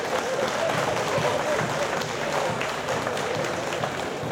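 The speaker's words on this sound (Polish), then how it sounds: "brawa dla nich, brawa dla nich" Outdoor harvest festival crowd applauding in a steady, continuous wash of clapping at moderate distance, with no clear voice over it.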